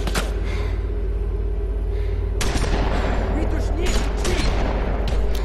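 Gunfire in The Walking Dead video game: a sustained low rumble breaks into a cluster of sharp, loud shots and bursts, several close together, with gasps and game voices mixed in.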